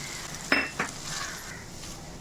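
Grated coconut is sautéed in a pan for a Tamil sundakkai fish curry, with a soft steady sizzle, a couple of sharp utensil scrapes and clinks against the pan near the start, and quieter stirring after.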